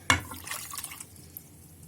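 Water is poured briefly into a container while making basbousa syrup, a short splashing burst that fades into quiet after about a second.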